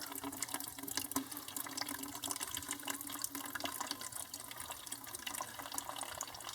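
Water runs steadily from a tap as excess water is drained while planting cactus seeds, a continuous faint splashing and trickling with no voices.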